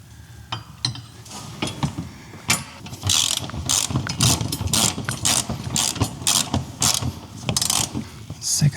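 Quick ratcheting clicks from a hand ratchet tightening a screw on a Hepco & Becker engine bar and tank guard fitted to a CFMoto motorcycle, coming in close, steady bursts with small metallic knocks between them.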